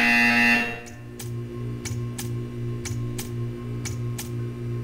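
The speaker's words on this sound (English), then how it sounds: "When you hear the buzzer, stare at the art." A loud buzzer blares for about half a second in Portal 2, then a quieter repeating tick or click pulses steadily over a low hum.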